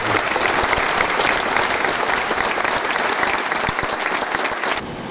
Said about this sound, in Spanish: pido un fuerte aplauso para los emprendedores que nos están acompañando